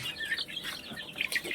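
Young chicks peep and chirp in high, rapid bursts while eating feed, close and fairly loud, overlapping calls over a short stretch.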